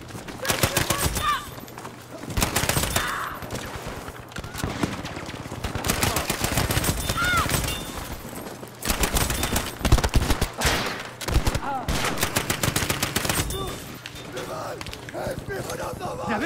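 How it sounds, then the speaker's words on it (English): A grease gun fires in Battlefield 5 in repeated short automatic bursts, loud and close, mixed with distant shots and battlefield clatter while a player talks between and over the volleys. "this freaking grease gun is pretty good"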